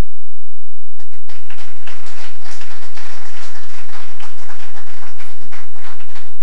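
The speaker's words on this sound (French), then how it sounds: "que nous applaudissons" An audience at a Café Philo talk applauds, a loud dense burst of clapping that begins abruptly after a second of silence and continues unbroken to the end.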